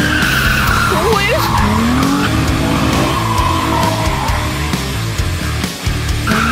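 A car drifts under its handbrake, tires skidding and squealing in a long sustained screech over a roaring engine, with excited voices faintly underneath.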